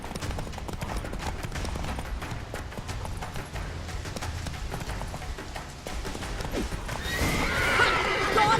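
Roach, the horse from The Witcher 3 video game, gallops with a steady run of loud hoof clip-clops, then gives a sharp neigh near the end.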